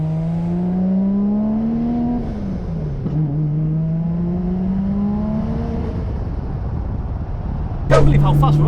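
A 910 bhp big-turbo Nissan R34 Skyline revving hard, engine pitch climbing, dipping and climbing again in long sweeps, loud and close, with a sharper burst of revs near the end.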